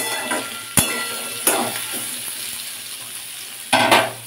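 Eggplant and potato fry in a pan while being stirred, with a steady low sizzle broken by a few sharp scrapes and knocks of the utensil against the pan, close and clear.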